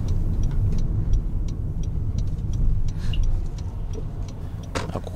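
A Honda Odyssey hybrid drives downhill on a mountain road, its steady low rumble of road and engine noise filling the cabin, with faint rhythmic ticking and a brief rattle near the end.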